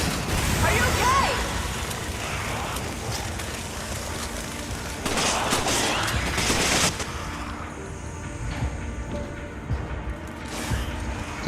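Gunfire and grenade rounds in Resident Evil 5, a busy mix of rapid shots, bursts and blasts over game noise, loudest early and around the middle, then easing off, with some talk mixed in.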